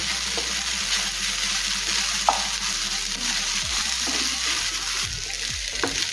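Soaked sabudana is stirred with vegetables and roasted peanuts in a pan for sabudana upma, with a steady sizzle and periodic spatula scrapes and clinks close by, and no speech.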